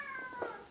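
A cat gives a single short meow, faint and somewhat distant, lasting under a second with no other sounds around it.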